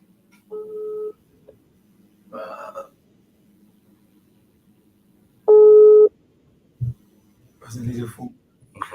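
On a call-in show, a phone call is placed. A few separate electronic tones and beeps sound clearly against near silence, with brief voices and noises in between.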